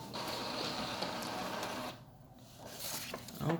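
Epson WorkForce ET-4750 inkjet printer running a print job, a steady whirring mechanical drone with a brief pause partway, then resuming with a clunk near the end, close and fairly quiet.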